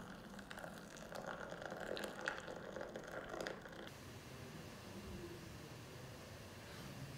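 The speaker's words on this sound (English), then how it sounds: "I'm just going to grab that and just saturate the grounds" Boiled kettle water pours steadily over coffee grounds, a soft continuous gushing splash that eases to a quieter trickle partway through, with no talking.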